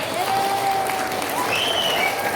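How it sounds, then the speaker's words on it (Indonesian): Children clap together in a Ramadan flash-school gathering at a Quran learning center, a dense, steady patter of applause filling the whole stretch with faint voices mixed in. "tepuk tangan yang paling meriah"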